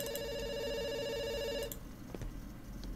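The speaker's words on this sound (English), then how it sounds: "It's ringing." A telephone in the video game Dr. Langeskov rings with a steady electronic trill for about a second and a half, then cuts off, leaving quiet room tone and faint rustling.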